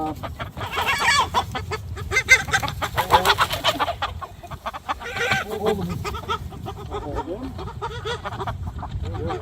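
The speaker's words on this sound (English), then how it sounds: "Oh, that's a chicken got loose." A loose farm chicken clucking and squawking nearby, repeated agitated bursts over several seconds, mixed with people talking and background commotion.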